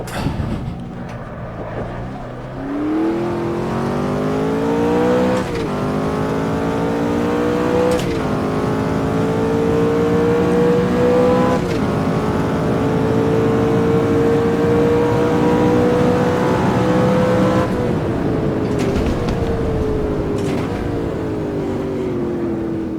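A McLaren F1 engine in the Automobilista racing game revs hard and continuously, its pitch climbing through the gears with brief dips at each shift, loud and close with no voices over it.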